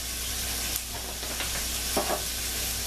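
Onions and peppers sizzle steadily in a pan over medium heat, a continuous close frying hiss with a few brief stirring scrapes and no voices.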